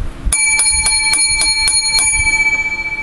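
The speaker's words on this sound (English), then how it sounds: "We need seven lucky bells." Seven bright rings of a small bell struck in even succession, each ring clear and close, with a ringing tone that lingers and fades after the last strike.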